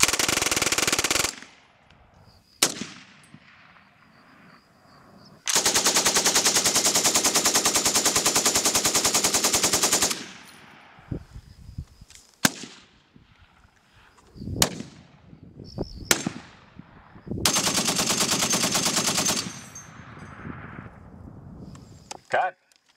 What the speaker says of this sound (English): this is going to be a 12-gauge shotgun